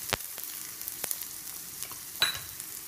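Chopped onion frying in a pan for a Kolambi (prawn) Khatakhata, giving a faint, sparse crackle with a few soft pops over a quiet background.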